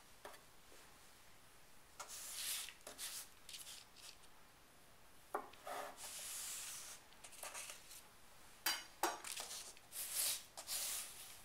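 A knife trims the edge off a cake layer for petits fours in a series of soft, quiet scraping and brushing strokes, with short pauses between the cuts.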